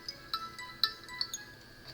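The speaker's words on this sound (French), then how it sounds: "Bon, je vais répondre au téléphone et je reviens." A telephone ringtone chirps quietly in a short run of bright, evenly spaced electronic beeps over a faint hum.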